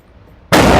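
A Mac 9 pistol fires one sudden, loud shot at a target after a brief near-silent lead-in, the blast sharp and close and ringing to the end.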